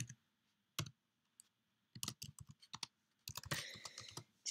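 Computer keyboard typing while entering team fields into an XML document with PHP, heard as separate bursts of quick clicking keystrokes with short pauses, with a denser run of keys near the end.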